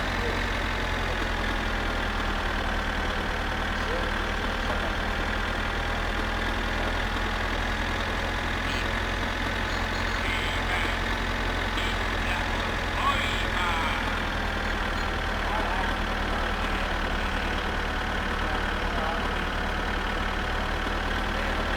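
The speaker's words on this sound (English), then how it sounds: "We're probably lucky if we're doing 15 kilometers an hour in this tractor" A slow tractor engine drones steadily in the My Summer Car video game, a continuous mid-pitched idling rumble with faint knocking that holds at a constant level throughout, close and unbroken.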